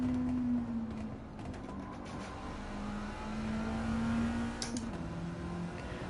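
Lancia race car in a racing video game, its engine droning at steady high revs with slight pitch shifts as it holds speed, a continuous mechanical hum throughout with no talking.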